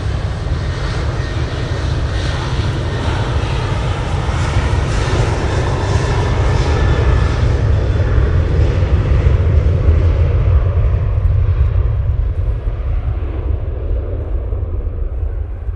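A TUI passenger jet at Manchester Airport gives off a steady, loud engine roar with deep rumble, holding constant for the whole stretch with no voices.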